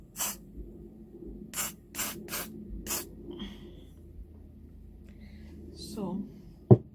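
Several short, sharp aerosol spray bursts in quick succession, then a pause before quieter rustling and a brief clatter close by.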